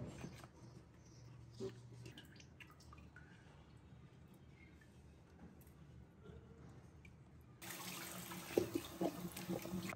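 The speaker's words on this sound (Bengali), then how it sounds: "সবগুলো মাছ ধুয়ে নিব ভালোভাবে" Pieces of hilsa fish are washed in a kitchen. Quiet handling and faint drips come first, then a tap gushes with running water splashing over the fish near the end.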